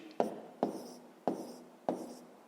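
Someone writes out a fifth-grade math solution by hand, producing four short, evenly spaced scratching strokes, each starting with a sharp tap and quickly fading, in an otherwise quiet room.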